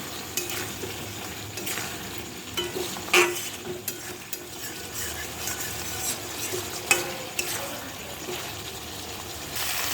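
Mixed vegetable curry fries in oil in a pan as it is stirred, with a continuous low sizzle broken by repeated spatula scrapes and a couple of sharper clinks.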